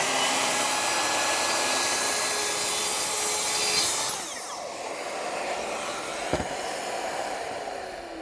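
A track saw cutting a 45 degree bevel in wood for a table top planter: a loud, steady motor whine with cutting noise that winds down partway through, leaving quieter room sound and a single sharp knock.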